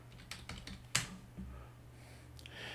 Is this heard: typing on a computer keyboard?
yes